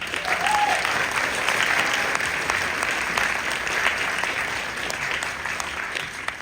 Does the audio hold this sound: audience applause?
yes